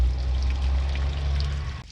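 Tap water pouring out of the radiator of a 1978 GMC crew cab truck with the engine off, a steady splashing gush held close and loud, stopping abruptly at the end.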